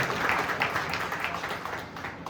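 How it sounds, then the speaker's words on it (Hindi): An audience at a Gahoi Samaj community gathering claps for the program organisers, a moderate, uneven patter of hands that stays fairly distant and fades slightly toward the end. "इनके लिए तो एक बार जोरदार तालियां होनी चाहिए"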